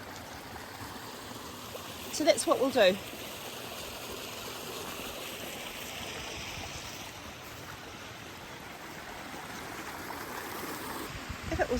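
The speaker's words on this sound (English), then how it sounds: "it's a bit noisy by the little river" A small alpine river in the New Zealand Alps flows close by in a steady, broadband rush, with a brief voice speaking early on over the water.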